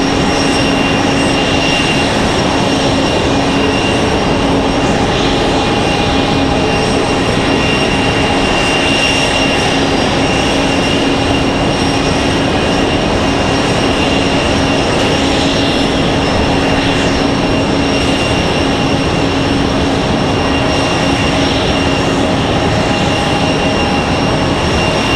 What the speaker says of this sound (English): Looks like we got another Delta headed out to the runway.